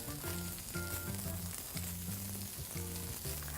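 Carrots fry in oil in a hot wok with a steady, close hiss and sizzle throughout, alongside a low, rhythmic tonal background.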